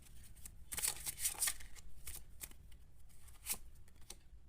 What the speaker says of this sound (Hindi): एक टाइम प्रेडिक्शन कार्ड से मैं आपके लिए कार्ड निकालूंगी।